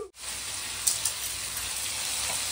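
Tomatoes hit a hot pan of fried ginger and garlic for a mullet fish curry, a loud steady sizzle hissing close up with a few brief crackles.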